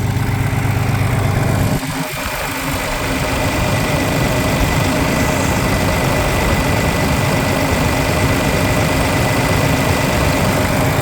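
A 1969 John Deere 4020 diesel tractor idles at around 1,000 RPM, a loud, close, steady low rumble with a continuous mechanical clatter and a brief dip early on, no voices.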